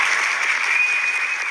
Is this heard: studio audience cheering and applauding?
yes